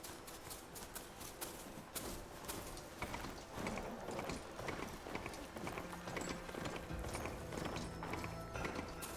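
Mount's hooves clip-clop steadily through a Horizon Forbidden West game scene, a fast rhythmic trot layered over busy in-game ambience and mechanical clanks, with an occasional whinny.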